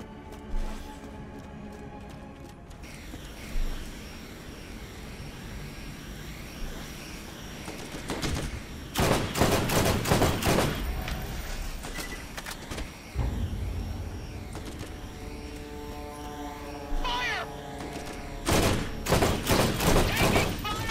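Gunfire in the video game Borderlands, The Secret Armory of General Knoxx, with bursts of rapid shots over continuous game noise and ambience, several separate volleys in the second half.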